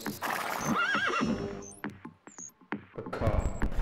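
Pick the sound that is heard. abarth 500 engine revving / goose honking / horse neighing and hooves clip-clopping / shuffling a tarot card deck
horse neighing and hooves clip-clopping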